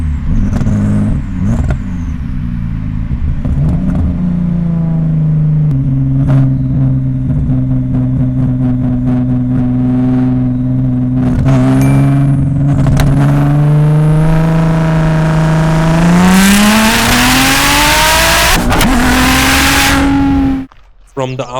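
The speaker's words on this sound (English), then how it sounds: "This is what it really feels like. Boost noise, gear shifts," Garage-built 750 hp Audi S4 B5 heard from inside the cabin, engine climbing through revs with a steady drone, boost whoosh and gear changes, ending in a sharp rising pull before cutting off; voices speak over it.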